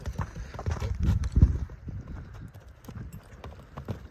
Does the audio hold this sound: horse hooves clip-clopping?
yes